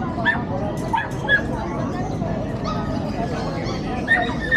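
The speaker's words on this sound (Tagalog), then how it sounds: "Makaraming tuta o." Puppies for sale at a pet market in Pasig yip, whimper and bark in short bursts close by, over crowd chatter and people talking in the background.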